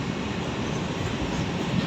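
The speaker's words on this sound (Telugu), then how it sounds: "Goods train." A goods train rolls past Dwarapudi railway station with a steady low rumble and rail noise, continuous and moderately loud, with no voices.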